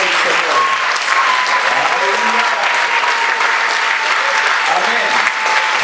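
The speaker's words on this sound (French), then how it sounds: "on va fortement acclamer le Seigneur Dieu pour sa présence au milieu de nous" A church congregation at a worship service applauds and cheers loudly and steadily for several seconds, with a voice faintly audible within the dense clapping.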